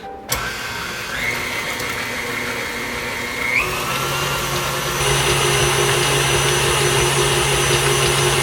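An electric mixer whirs steadily mixing softened butter and an egg, its motor pitch stepping up partway through and growing louder toward the end, with no talking.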